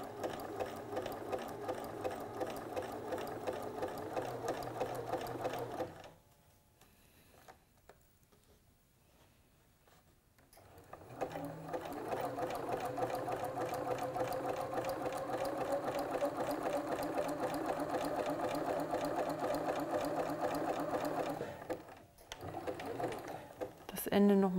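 A household sewing machine stitches parallel rows of smocking with elastic, a steady fast mechanical whir and clatter that pauses for several seconds, then resumes running continuously before stopping near the end.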